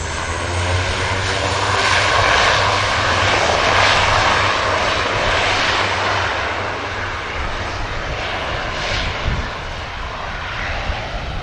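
A Dash turboprop airliner takes off from an airport runway, its engines producing a loud, steady roar and propeller drone that holds throughout and eases slightly toward the end.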